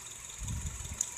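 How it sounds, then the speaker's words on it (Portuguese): Honda CR-V engine idling smoothly after its injectors were reconditioned, a faint low steady rumble under a quiet high hum. "motor funcionando sereno, perfeito."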